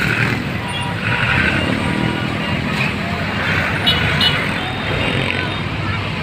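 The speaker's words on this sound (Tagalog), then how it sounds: "Traffic update dito sa Tayuman." Rush-hour traffic rumbles steadily through the Tayuman intersection, with car and motorcycle engines in a dense, continuous wash and a person talking over the road noise.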